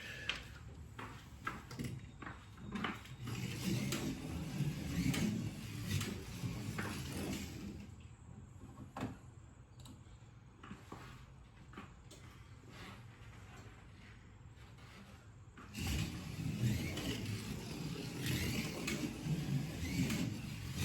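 A slot car's small electric motor, an NSR Lola, whines in repeated laps around a track, rising and falling as it circles and topping out on the straight, with rattly clicks and a quieter stretch before it picks up again.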